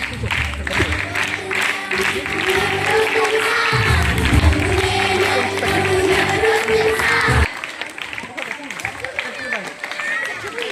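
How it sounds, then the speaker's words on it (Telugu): An audience at a church VBS celebration claps and cheers as children come up holding certificates for a group photo, with busy crowd noise and talk over it before it drops to a quieter, thinner patter. "అందరూ క్లాప్స్ కొట్టాలి."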